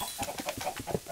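Chickens cluck in the Minecraft video game, a quick series of faint, repeated clucks in an even rhythm over a busy background.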